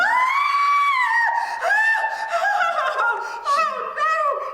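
A woman's long, shrill, blood-curdling scream in a stage play, loud and close, sustained and wavering with breaks, shifting into gasping, laugh-like cries.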